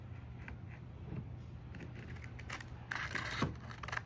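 Scissors cutting during bodywork prep on a Honda Prelude restoration, a few short snipping and scraping clicks near the end over a steady low hum, close and fairly quiet.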